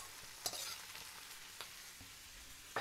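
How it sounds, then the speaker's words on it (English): Broccoli rabe, garlic and walnuts sauté in hot oil in a pan, a soft steady sizzle broken by a few sharp scrapes and clacks of stirring, close and fairly quiet. "So I'm just basically cooking up the garlic for flavor and stirring it around with the walnuts"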